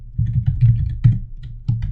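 Keys clatter on a computer keyboard in quick, uneven bursts of typing, close and clear with no voices.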